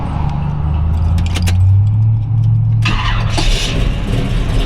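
A 1969 Chevy Camaro's 572 V8 fires up after a jangle of keys, then idles with a deep, steady rumble close by.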